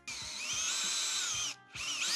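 A power drill boring a hole for motorcycle speaker wiring on a 2024 Road Glide, whining loudly and close for about a second and a half, pausing briefly, then spinning up again.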